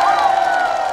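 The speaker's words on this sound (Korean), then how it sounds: "박수!" Audience at a Korean MBC adult-contemporary music TV show taped in Samcheok cheering and applauding, a dense crowd roar with whoops throughout, steady and loud for the whole second.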